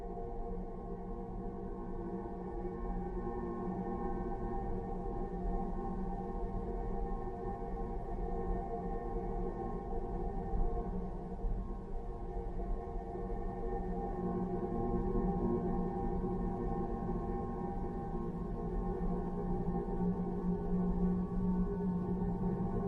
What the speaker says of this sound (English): This is the sound of Jupiter.